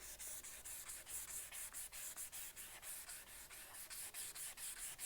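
A resin Easter basket bowl is sanded by hand on a lathe, giving quiet, rhythmic rubbing strokes in a fast, even back-and-forth pattern close to the listener.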